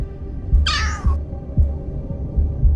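A summoned cat in the video game Solo Leveling: Arise gives a single clear meow, with low game rumble and thuds underneath.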